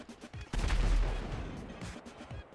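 Gunfire in the video game GTA 5, with a heavy booming blast followed by scattered lighter shots and rumble, moderately loud and a bit distant.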